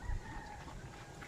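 Chickens, including a mother hen, cluck softly in a brief, low-level burst, with no one talking.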